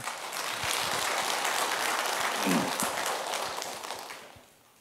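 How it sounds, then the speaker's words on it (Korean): A church congregation at an early-morning service breaks into sustained applause, a dense, even clapping that fills the room for several seconds before tapering off at the end. "박수 한번 해주셔요."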